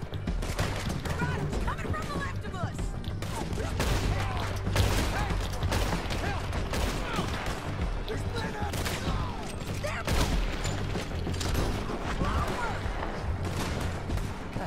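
Sustained gunfire in Red Dead Redemption 2 during a horseback chase through a canyon: a dense, steady barrage of overlapping shots with voices mixed in.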